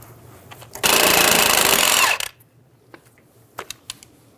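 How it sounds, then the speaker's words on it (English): Socket wrench on a tie rod end nut of a 2000-2007 Ford Focus, one loud buzzing burst of just over a second, followed by a few faint metallic clicks and taps. "Using a 15 millimeter socket, remove the nut for the tie rod end."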